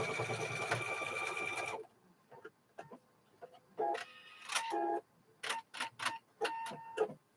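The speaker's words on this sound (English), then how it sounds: "I'm going to sew 2 strips together." Sewing machine stitching two quilt strips together, a steady continuous whir for nearly two seconds, then short separate bursts of stitching broken by pauses and quiet ticks.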